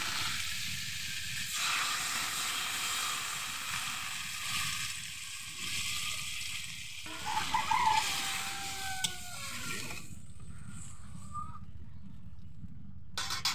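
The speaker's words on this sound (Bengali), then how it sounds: "এবার আমি জল ঢেলে দেবো।" Water poured into a hot pan of frying vegetables gives steady broadband sizzling and hissing, rising briefly in a sharp crackle midway, then fading to a quieter simmer.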